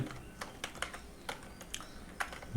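Computer keyboard keys tapped while writing Python string code, in scattered, irregular bursts of light clicks at moderate distance over a faint steady background hum.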